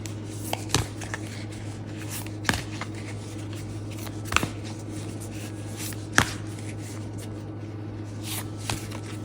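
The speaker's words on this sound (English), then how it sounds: "this is really thick cardstock. Big cards, not easy to shuffle." Thick cards being shuffled in a few scattered bursts, with sharp riffling snaps standing out over a steady low hum, close to the listener.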